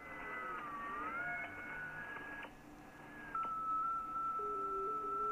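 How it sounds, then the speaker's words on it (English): FT8 and JT65 digital mode signals received on an Icom IC-7610 radio in LSB, steady warbling electronic tones shifting pitch over a low hiss of background noise, with no voices. "so we've got FT8 and JT65 signals, really strong at the moment"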